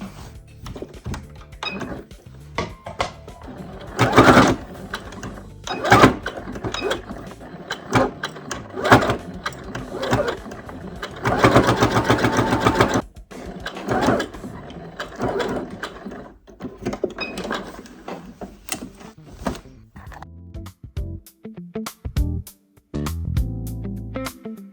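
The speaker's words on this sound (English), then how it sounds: "I'm just sewing all the bodice together like that" A sewing machine stitches together the pieces of a cosplay bodice, running in repeated loud mechanical bursts of varying length separated by brief pauses, with handling clatter between them.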